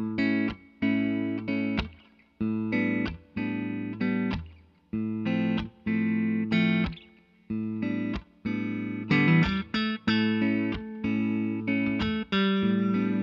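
A 2013 Gibson Les Paul Tribute 1952 Reissue electric guitar played through a Marshall JMP-1 preamp with a distorted tone, loud chugging chords in short rhythmic bursts with brief gaps, close and alone.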